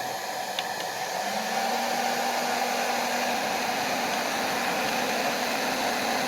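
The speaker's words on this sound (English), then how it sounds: "Let's go ahead and get the heat gun." A heat gun runs from an AllPowers R1500 portable power station, making a loud, steady blowing hiss that holds unbroken for the whole stretch with a faint hum beneath and no talking.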